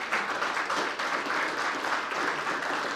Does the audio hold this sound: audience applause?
yes